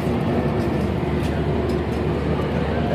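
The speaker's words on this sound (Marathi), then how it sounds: "मनमाड प्लॅटफॉर्मवरनं आता ट्रेन निघाली आहे." A passenger train pulls away from Manmad railway platform, a loud continuous rumble and rolling roar close by, with a few faint higher knocks over it and no talk.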